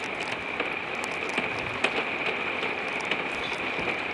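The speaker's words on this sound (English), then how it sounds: "when you're trying to get in the storage compartments, the gutter drains on you" Rainwater pours off an RV's roof gutter onto the storage compartment area at a state park campground, a steady close hiss and patter of water with scattered heavier drips striking the surface.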